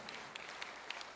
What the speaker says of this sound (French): Merci, applaudissez s'il vous plaît.